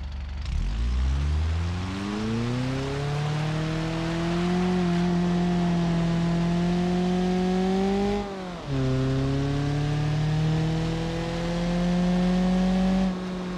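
A Moskvich car engine in the BeamNG driving game on snowy mountain roads revs up from idle to a loud, sustained drone whose pitch climbs gradually, dips briefly during a shift, then holds high again, heard alone and close.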